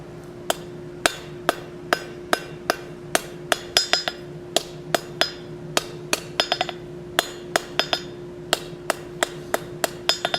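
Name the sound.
hammer forging hot steel tenon for plant hanger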